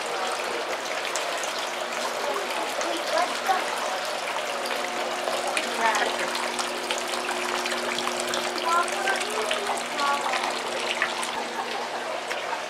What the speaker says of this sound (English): Got a cool looking waterfall here.